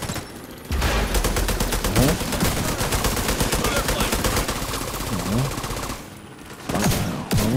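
Rapid bursts of automatic gunfire in the video game Tom Clancy's The Division 2, loud and sustained with brief pauses, mixed with voices talking over the shooting.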